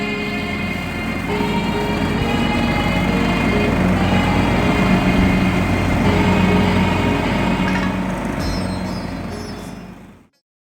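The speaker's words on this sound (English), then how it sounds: "I'm gonna go ahead and use a Stihl HS 46C hedge trimmer to trim these bushes right here" Stihl HS 46C hedge trimmer with its small gas engine running steadily and loudly at close range for about ten seconds, a buzzy, even drone that cuts off abruptly at the end.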